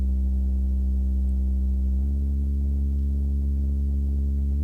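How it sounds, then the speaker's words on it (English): Deep synth bass from a Serum preset holding a low root note, then stepping to another sustained note, steady and loud with no voices. "We have I think this bass is a Serum preset, and it sounds like this."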